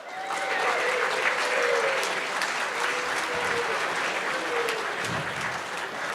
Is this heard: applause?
yes